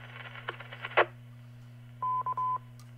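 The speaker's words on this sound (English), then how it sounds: "I did hear a phone beep go on there." Three steady DTMF keypad tones from a telephone sound around two seconds in, clear over the steady hum of an amateur radio net, after a few short clicks and bursts of noise.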